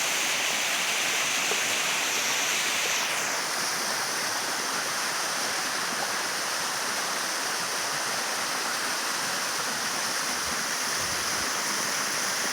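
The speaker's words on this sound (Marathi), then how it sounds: "हा समोर धबधबा आहे." Patana Devi waterfall roaring steadily up close, a dense, constant rush of falling water with no pauses.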